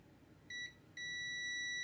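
A multimeter set to continuity mode gives a short high beep, then after a brief pause a longer steady tone, both clean and close against a faint background.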